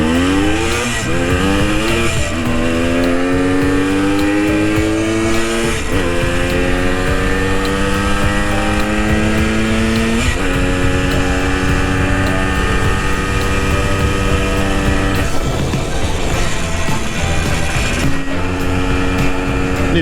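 A vintage Yamaha enduro motorcycle in stock form on a test ride, its engine loud and close, revving up repeatedly in rising sweeps through the gears and seeming to run out of top-end power.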